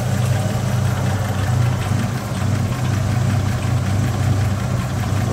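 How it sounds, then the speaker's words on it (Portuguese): An original 261 straight-six in a 1976 Chevrolet C10 pickup idles with a steady low, throbbing rumble, recorded up close and continuous with no talking over it. "Olha o barulho do motor."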